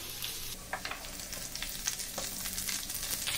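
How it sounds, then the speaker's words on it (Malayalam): Chopped garlic and curry leaves frying in sunflower oil, a soft, steady crackling sizzle with a few light stirring scrapes, close by and fairly quiet. "വെളുത്തുള്ളിയൊക്കെ നന്നായിട്ടൊന്ന് മൂക്കട്ടെ, ചെറുതായിട്ടൊരു ഗോൾഡൻ ബ്രൗൺ കളർ ആവുന്നിടം വരെ നമുക്കൊന്ന് ഇളക്കി കൊടുക്കാം"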